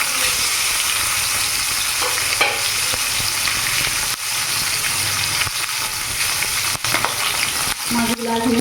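Silver carp pieces fry in hot oil with a loud, steady sizzle throughout, broken by a few sharper crackles and spatters near the end.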